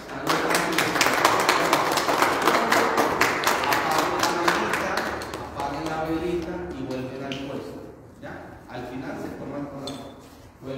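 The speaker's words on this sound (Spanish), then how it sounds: "le damos un fuerte aplauso" Church congregation applauding at a Catholic Mass, a dense wash of claps for about five seconds that thins out, followed by scattered voices and murmuring in the hall.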